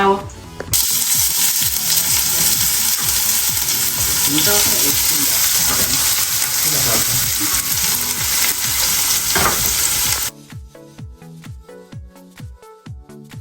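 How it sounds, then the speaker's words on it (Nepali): Vegetable masala, garam masala and red chili powder fry in hot oil for aloo paratha filling, a loud steady sizzle with stirring scrapes for about ten seconds, then cutting off to quieter clinks and pauses. "अब म थोरै फ्राई गर्छु।"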